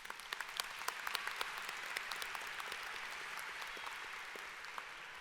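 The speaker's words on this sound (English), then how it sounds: "let's give them a round of applause." A graduation ceremony audience applauding, steady dense clapping with scattered cheers carrying through a large hall for several seconds.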